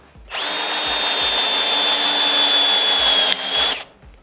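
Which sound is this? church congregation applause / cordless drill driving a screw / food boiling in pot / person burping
cordless drill driving a screw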